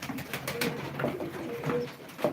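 Pigeons coo at a live pigeon auction, giving several soft, overlapping rolling coos close by in quick succession, with no talk over them.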